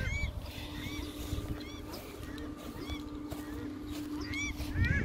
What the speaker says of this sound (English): They're not exactly concerned about me, even with a bloody rifle, the old paradise ducks.